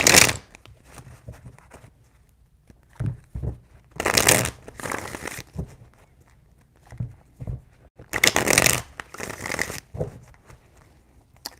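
Tarot cards are shuffled in several loud riffling bursts separated by quiet gaps, with soft taps and handling sounds between the shuffles, close up.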